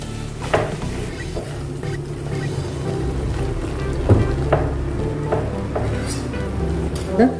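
A spoon stirs roasted peanut powder into aloo palak in a hot pan, scraping and clacking in irregular strokes over a steady soft sizzle, close and fairly loud.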